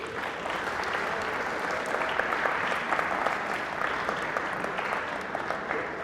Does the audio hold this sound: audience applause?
yes